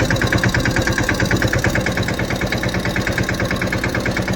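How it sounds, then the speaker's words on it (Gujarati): A loaded farm tractor's engine idles and chugs steadily up close, a continuous rhythmic diesel throb with a knocking pulse and no voices. "ધીરું ટ્રેક્ટર હાંકવું પડે"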